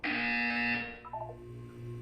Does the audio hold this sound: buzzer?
yes